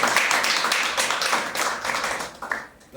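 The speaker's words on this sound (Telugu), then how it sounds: "చప్పట్లు దేవునికి" A congregation claps together during a church prayer service, a dense, steady patter of many hands that keeps going for the whole stretch with no talk over it.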